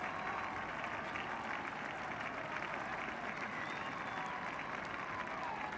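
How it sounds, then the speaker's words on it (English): Sustained applause from a fairly sparse crowd at the Oval greets batsman Dennis Amiss returning to his innings during the 1974 England–Pakistan cricket Test, steady dense clapping held at even level throughout. "Dennis Amiss deservedly getting the biggest hand of the day from a fairly sparse crowd here at the Oval"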